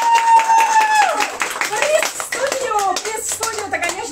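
A small group claps briefly at a team awards ceremony while honoring a colleague, with close, uneven hand claps mixed with overlapping voices and chatter.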